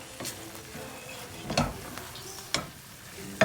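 Blanched vegetables stirred into asparagus risotto with a wooden spoon, a soft simmering hiss broken by several spoon knocks and scrapes against the pan, close and fairly quiet.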